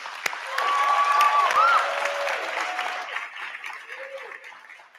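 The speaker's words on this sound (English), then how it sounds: "let's give a big round of applause to Mackenzie" Guests at a senior honors dinner applaud Mackenzie, a soft, distant spread of clapping in a large room, with a few voices and a faint tone heard over it.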